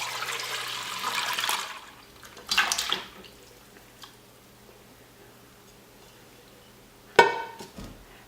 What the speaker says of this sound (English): we're just going to strain it by pouring it through a colander